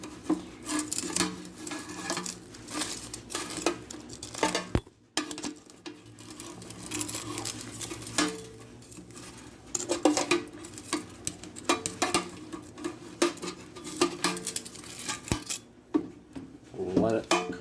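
Air fryer basket being pulled out and spicy chicken pieces flipped, with repeated metallic clatters and scrapes of dishes and utensils, fairly faint and close.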